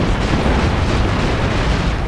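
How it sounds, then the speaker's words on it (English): A full bombardment from heavy gunners in Shogun 2 roars as a dense, continuous wall of booming fire, loud and unbroken throughout. "they are no match for the heavy gunners in a full bombardment there"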